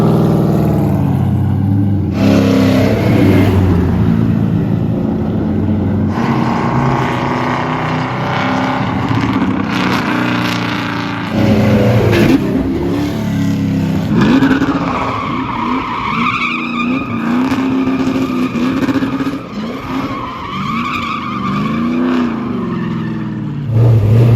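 Engine of a Toyota Supra sleeper build revving hard and accelerating, a loud continuous roar with rising and falling pitch sweeps, close and dominant throughout with no talk.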